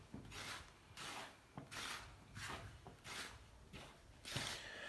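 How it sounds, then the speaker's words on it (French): Hands rubbing and mixing flour and salt in a bowl, 2 kg of flour with 36 g of salt for a migliacci dough, giving soft repeated rasping swishes in a loose rhythm, close but quiet. "Nous allons bien mélanger."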